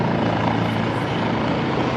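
Loud, steady rotor and engine roar from helicopters passing overhead above an outdoor practice facility, a dense continuous drone filling the whole moment with no break.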